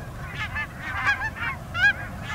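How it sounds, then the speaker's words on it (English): Geese honk repeatedly as they fly in low over a northern Canada duck hunt, a string of clear separate calls close by and fairly loud. "those geese are coming in low"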